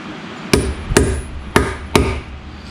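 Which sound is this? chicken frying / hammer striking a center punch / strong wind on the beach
hammer striking a center punch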